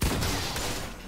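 Rapid P90 gunfire from a video game, a dense burst of shots with headshot hit sounds, loud and close, filling the whole short moment.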